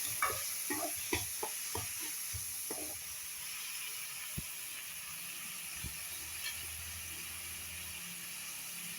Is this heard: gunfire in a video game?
no